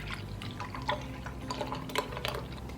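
A cup of almond milk is poured for a Greek yogurt dip, giving soft liquid splashes and drips, close and fairly quiet over low room hum.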